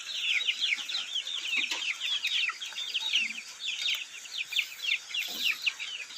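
A group of free-ranging Thai native chickens clucks continuously nearby, with overlapping, chattering calls rising and falling throughout.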